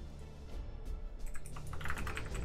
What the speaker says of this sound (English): Alright, so I just did a bunch of typing there.